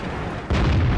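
A tank cannon fires in a tank video game, a sudden loud boom halfway through that holds as a heavy low rumble over the continuing game noise.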